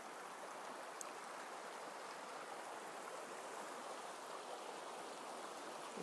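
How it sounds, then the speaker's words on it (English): A small creek flows in a soft, steady babble, faint and continuous with no voices over it. "This amazing, amazing little creek"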